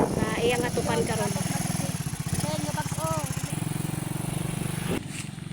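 A motorcycle loaded with galvanized iron roofing sheets runs with a steady, pulsing engine drone, while a voice talks over it most of the time.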